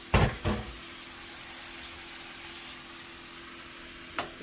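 Shrimp for jerk shrimp tacos sizzle in a pan, a soft steady frying hiss after two sharp clatters at the start, with faint occasional taps.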